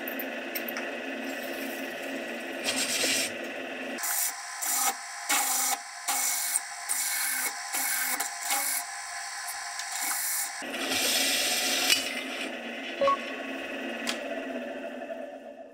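A core drill with a gold HSS center bit and carbide-tipped teeth cuts a hole, giving a harsh grinding rasp that stutters in rapid on-off bursts through the middle, with continuous machine noise before and after.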